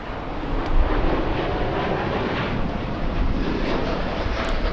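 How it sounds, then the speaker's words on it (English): A United airliner takes off at LAX, its jet engines producing a loud, steady broadband roar that holds throughout, heard from a distance without talk. "after this United takeoff"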